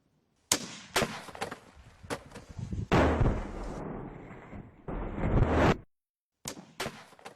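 Sharp, loud BORA 12 sniper rifle shots ring out at a range, several sudden reports, a couple of them with a longer rumbling echo, spaced apart with short gaps between them.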